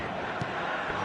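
A dense stadium crowd roars continuously in an eFootball 2025 match, a loud, unbroken wall of cheering and chanting as players walk out, with no clear breaks.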